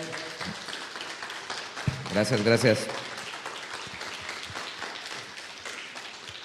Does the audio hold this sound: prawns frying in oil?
no